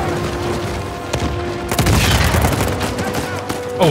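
Rocket blasts and gunfire from Uncharted 4, a booming explosive burst swelling mid-clip over dense battle noise, with a final thump near the end.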